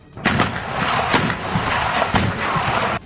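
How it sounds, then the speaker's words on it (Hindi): Artillery guns firing shells in a series of heavy booming blasts, three or four loud reports spaced about a second apart with rumbling echo between them. "एक एक करके कई तोप से गोले छोड़े गए, जिनके धमाकों से पूरा इलाका थर्रा उठा।"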